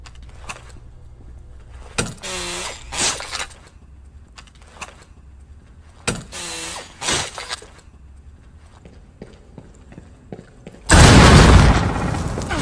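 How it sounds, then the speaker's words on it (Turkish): Kapkan's trap detonating in Rainbow Six Siege Mobile: scattered in-game clatter and bursts lead to a sudden loud, sustained blast near the end. "Kapkan mesela duvarlara e, böyle bir tuzak kuruyor. Adam eğer onu kırmadan geçerse patlıyor ve bayağı vuruyor bu"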